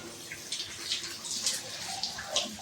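Water splashing and pouring close by during a bath after Holi colour play, arriving in uneven bursts and trickles with no talk over it.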